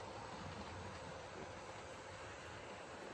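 A Hornby Triang R2X passenger set model train runs around a tight-radius loop of track at rising speed, giving a steady, close whirring rumble with no breaks.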